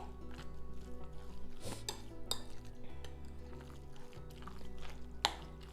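Meat filling with cabbage, egg, salt and pepper being mixed in a bowl for juicy cabbage-meat chebureks, faint scattered clinks and soft scraping of a utensil against the bowl, with occasional wet dabs, quiet and close.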